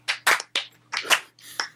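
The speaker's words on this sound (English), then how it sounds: "Are we doing a slow clap?" Slow, deliberate hand claps, about five sharp strikes spaced unevenly over a couple of seconds, fairly close and alone, with a faint steady hum underneath.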